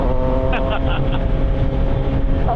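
A CFMOTO 675SR-R motorcycle on a night ride gives a loud, steady engine drone close to the microphone, with a few short voice sounds over it.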